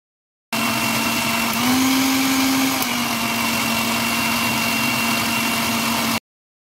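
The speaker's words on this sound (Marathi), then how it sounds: "आता मिक्सरला फिरवून घेऊया।" A mixer grinder whirs loudly as it blends a chikoo milkshake with sugar and cardamom powder, one steady motor hum that starts abruptly, rises in pitch briefly, then runs evenly until it cuts off.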